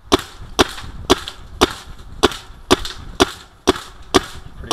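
A 2013 Proto Reflex Rail paintball marker fires in semi-auto, giving about ten sharp, snappy pops at a steady, quick pace. The shots are close and loud.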